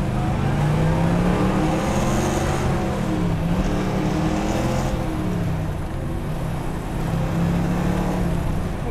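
The engine of a 1962 Corvette convertible revs hard and steadily toward its redline. The loud, rough roar rises and dips in pitch and nobody speaks.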